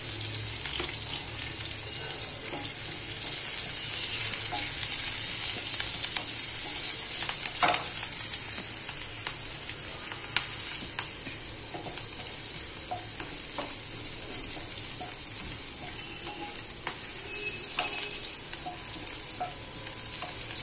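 Green chillies roasting in a pan for chatpati khichdi, a loud continuous hiss and crackle of hot oil with occasional stirring knocks, steady throughout.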